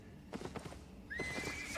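A riding horse in a video game whinnies loudly and clearly, a rising then sustained neigh preceded by a few soft hoof clops, close up with no talking.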